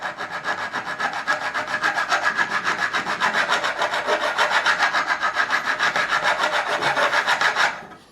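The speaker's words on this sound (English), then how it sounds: "I'm going to go with the coarse file." A coarse file levelling the frets on a Squier Jazz bass, a fast, even rasping stroke repeated steadily back and forth for several seconds, close and loud, then stopping.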